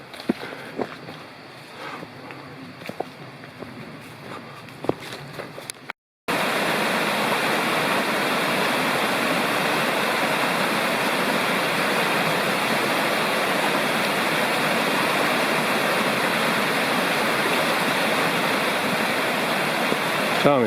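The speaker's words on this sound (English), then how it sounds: "Tommy crossing Pawpaw Creek." Pawpaw Creek in the Bald River Gorge Wilderness rushes as a loud, steady roar of flowing water after a few seconds of quieter footsteps and rustling outdoors, with no talking.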